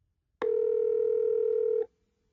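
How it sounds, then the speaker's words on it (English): An iPhone 3G sounds a single steady dialing tone of about one and a half seconds when a number is tapped to call, clean and close with no other sound around it. "You can also tap on a phone number in a text message to instantly call that person."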